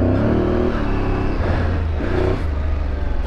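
An Aprilia Tuareg 660 motorcycle rides an off-road rocky trail with patches of ice, its engine a loud, close, continuous drone that rises and dips with throttle changes.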